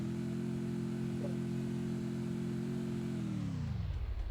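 A motorcycle engine in the video game Free Fire holds a steady, loud droning rev, then its pitch sags and fades away over the last second.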